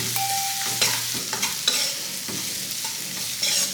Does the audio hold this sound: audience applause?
no